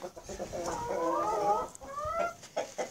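A black Australorp rooster and laying hens cluck close by in a farmyard, making a run of throaty, warbling calls that rise and fall, followed by a few shorter clucks.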